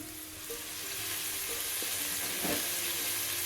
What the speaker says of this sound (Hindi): गाजर थोड़ा सा टाइम लेती है, इसलिए हम इसको 1 मिनट पका लेंगे